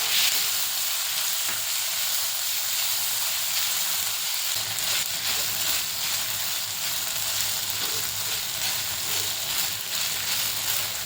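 Chopped tomato sautéing with a masala paste in a pan for a Malvani kala chana usal, a steady close sizzle and hiss with a few soft stirring scrapes throughout.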